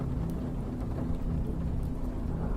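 A low, continuous rumble of thunder with a steady hiss like rain fills the scene of a brewing storm, holding fairly even throughout with no voices.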